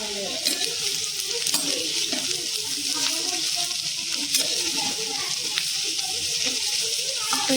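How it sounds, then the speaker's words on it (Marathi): Onion frying in a little oil in a kadhai, a constant close sizzle with occasional stirring scrapes and clicks against the pan. "कढईत थोडंसं तेल टाकलंय आणि आपण ह्याच्यावरती कांदा भाजून घेऊया।"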